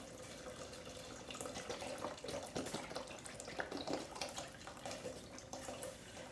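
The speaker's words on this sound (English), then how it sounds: "we're also going to add in 4 cups of vegetable broth" Vegetable broth pours from a container into a soup pot for berkouksh, a steady continuous splashing stream lasting several seconds at close range, no talking.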